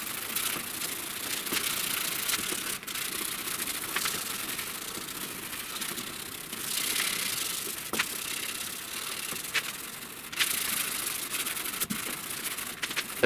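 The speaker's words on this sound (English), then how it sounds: "So, I gotta sand this crease right here" Sanding on the crease of a truck cab corner during deep dent repair, a steady dry rubbing scrape that runs continuously at close range with slight strokes and pauses, no voices.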